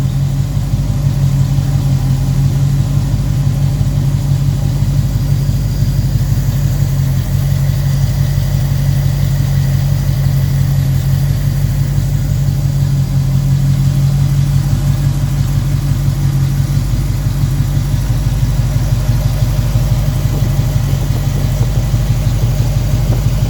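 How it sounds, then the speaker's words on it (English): A 1957 GMC 347/394 cubic inch engine idling at about 600 RPM, a steady, loud, low rumble running evenly and close-up throughout with no talking. "it's idling probably about 600 RPM"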